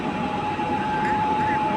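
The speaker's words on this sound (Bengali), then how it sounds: "ছেড়ে দিল ফারাক্কা এক্সপ্রেস দিল্লির উদ্দেশ্যে বালুরঘাট থেকে" Farakka Express train departing Balurghat station bound for Delhi and Bathinda on its inaugural run, a steady rumble of rail cars rolling past with a faint tonal whine, continuous throughout.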